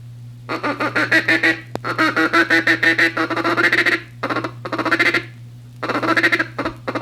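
A duck call sounds a fast, rolling series of short quacking feed-call notes in several bursts, close and loud over a low steady hum.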